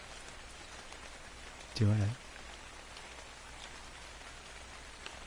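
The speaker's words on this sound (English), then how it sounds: "I'm in a forest in the rain" Steady rain falls through a forest in the video game Ark: Survival Evolved, a constant even hiss that runs the whole time, briefly covered by a short burst of a man's speech.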